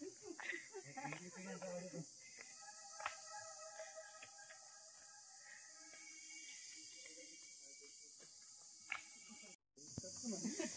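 A constant high-pitched drone of forest insects chirping near a stream fills the air, with people talking briefly at the start and a sudden short cutout near the end.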